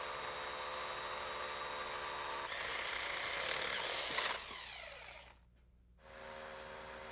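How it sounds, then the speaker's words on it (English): A hammer drill with a carbide-tipped bit bores through brick, giving a steady, loud grinding whine that swells, then drops away and briefly cuts out before resuming. "I'm going to use a carbide tipped bit and a hammer drill."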